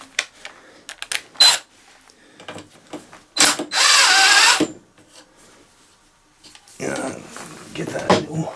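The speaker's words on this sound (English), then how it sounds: "let's undo this" Ratchet loosening a 10mm bolt on a Briggs & Stratton 350 lawnmower engine, heard as close bursts of rapid clicking and a sustained ratcheting stretch between pauses, with a person talking at times.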